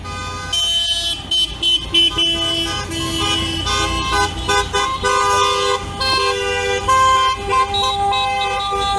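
A convoy of cars in a village motor rally for a national flag day passes by, honking horns repeatedly in overlapping toots and long blasts over running engines, loud and close.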